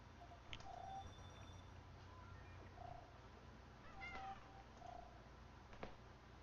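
A cat gives about four short, faint meows spaced a second or two apart, heard at a distance against quiet background hiss with no talking.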